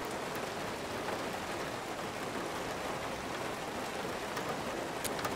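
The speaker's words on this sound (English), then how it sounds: "It is raining." Steady rain falls in the video game Road 96, a soft, even hiss of drops on surfaces that continues without pause, fairly quiet and alone.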